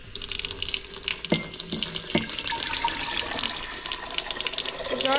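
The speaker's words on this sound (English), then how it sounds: "You can turn the water up if you need to." Tap water runs steadily from a faucet into a one-quart jar, a continuous close rushing splash with a few brief clunks near the start.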